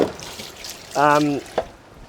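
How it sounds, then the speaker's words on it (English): A cup of water poured into a pot of pork adobo, a brief splashing pour of about half a second close by, followed by a small drip or clink in a quiet kitchen. "I might add 1 more cup of water."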